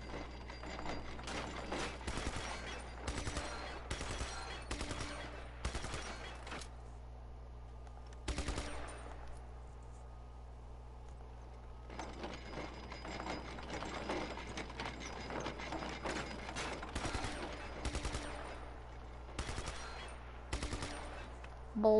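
Rapid bursts of gunfire from a weapon in Just Cause 3, crackling in uneven volleys over a steady low game hum, with brief pauses between strings of shots and a loud burst near the end.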